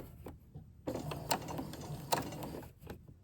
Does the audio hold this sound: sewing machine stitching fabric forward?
yes